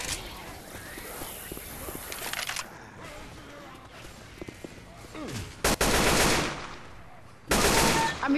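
Bursts of automatic gunfire in a Left 4 Dead style zombie shooter, rapid rattling volleys, the loudest near the end, separated by quieter stretches of background game noise and voices.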